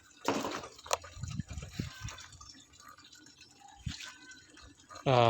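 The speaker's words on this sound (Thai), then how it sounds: "น้ำส้มกวนไม้เริ่มไหลแล้วครับพี่น้อง" Wood vinegar drips from a charcoal kiln drum: sparse, irregular, faint drips and trickles, with soft background noise and brief voice-like sounds.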